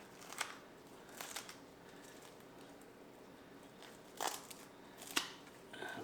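A knife cuts along the underside of a roast turkey breast, with faint scattered crackles and snips of skin and meat, quiet and close, a few louder crunches set apart by soft background.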